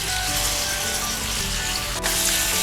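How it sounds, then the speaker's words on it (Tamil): Ground onion-tomato paste sautés in a pan for hotel-style sambar, giving a dense, loud, continuous sizzle close up, with one brief dip and no voices. "இது நல்லா பச்சை வாசனை போகிற வரைக்கும் வதக்கணும்"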